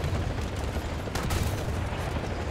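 Heavy gunfire from a Challenger 2 tank and other armored vehicles in the War Thunder combat game, a dense continuous rumble with a sharper blast burst near the middle.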